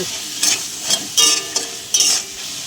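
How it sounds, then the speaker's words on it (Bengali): Potatoes fry in a pan with cardamom and cinnamon, a steady hiss broken by four or five sharp scraping stirs in an uneven rhythm, close and fairly loud with no voices. "আলুটা একটু ভেজে নেব।"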